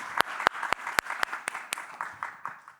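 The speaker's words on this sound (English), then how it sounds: "please join this giving the applause for the speakers" A small audience at an energy-transition conference session applauding the speakers, sparse and quiet, with a handful of sharp, evenly spaced claps standing out over a soft patter.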